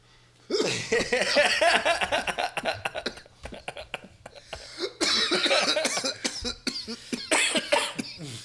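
Repeated harsh, loud coughing fits, close by, with brief pauses between bursts and a wheezy, rasping quality.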